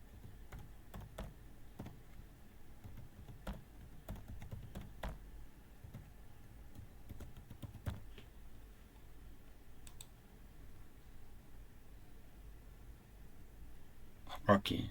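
Keys tapped on a computer keyboard while entering a MySQL root password on a Windows machine. Scattered light clicks come in short irregular runs over the first half, quiet and close above a low background hum.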